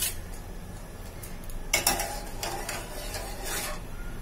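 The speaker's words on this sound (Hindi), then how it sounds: "अब हम दूध उबालेंगे।" Milk heating in a pot on the stove for mango custard, with soft scraping and clinking of a spoon against the metal, a few sharper clatters, and a quiet background hiss.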